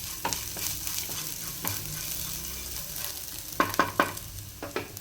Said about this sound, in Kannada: ಈರುಳ್ಳಿ ಎಲ್ಲ ಲೈಟಾಗಿ ಫ್ರೈ ಆಗ್ತಾಯಿದೆ